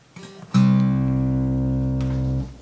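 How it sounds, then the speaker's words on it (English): Acoustic guitar through an Elite Acoustics D6-8 battery-powered acoustic amp, a single strummed chord ringing out loud and sustained for about two seconds before a second strum and a quick cutoff. "Okay, so then I'll go to the guitar,"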